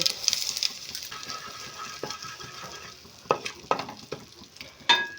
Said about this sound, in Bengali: কালো জিরে আর হিংটা একটু ভেজে নিয়েছি